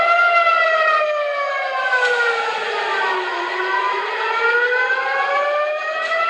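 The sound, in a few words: air raid siren in Israel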